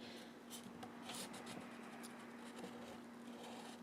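A marker draws lines on paper while a Mondrian-style heart is sketched, soft brief scratchy strokes in a quick series, faint and close with a low steady hum behind and no talking.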